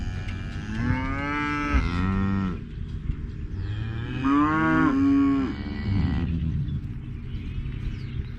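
Angus bulls bellowing in a farm pen, two long, loud, close moos with rising and falling tone, separated by a brief pause, over a low rumbling background.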